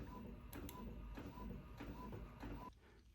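A printer printing a photo on printable sticker paper, a quiet run of rhythmic mechanical clicks and whirring passes about every half second before it stops.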